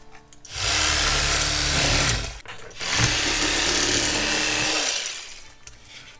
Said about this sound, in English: Cut the ribs out.